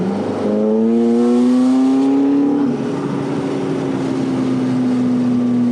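A tuned 2012 McLaren MP4-12C engine drones loud and close while driving, its steady tone sliding up through a rev build, dipping briefly at a shift, then holding a sustained cruising note.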